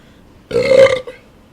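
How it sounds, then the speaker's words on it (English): A single loud, close burp into a microphone, about half a second long, sharp and resonant, with near silence before and after. "They wanted more burping in the mics?"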